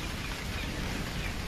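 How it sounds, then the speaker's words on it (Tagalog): Heavy rain falls in a steady, dense hiss close by at a rural duck-raising spot, with no voices. "nakasilong ako kasi malakas ulan eh"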